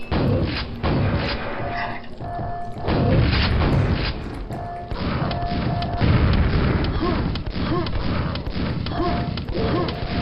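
Explosions and combat in the video game Quake, with heavy booms and crashing impacts repeating across a dense, loud stretch of game action and faint metallic tones.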